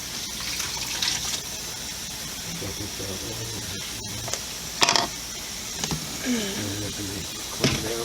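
Running tap water washes cleaned sandbass fish at a sink, a steady stream with splashes and clinks, while a person talks briefly over it.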